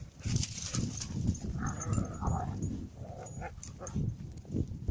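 Collies romp in snow on a woodland walk, with scattered sniffs, snorts and bumping movement at moderate distance, no one speaking.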